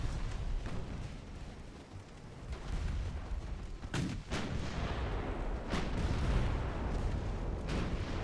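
Heavy naval gunfire from battleships in the Ultimate Admiral: Dreadnoughts game, loud booming salvos and sharp cracks following one another over a continuous rumbling battle din.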